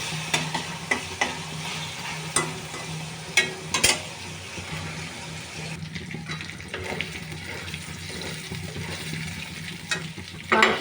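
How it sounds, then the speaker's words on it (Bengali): Meat seasoned with soy sauce, salt and lemon juice fries in oil as a pizza topping, a steady close sizzle with scraping stirs and a few sharp clatters of a utensil against the pan. "সয়া সস দিয়ে ভেজে নিচ্ছি।"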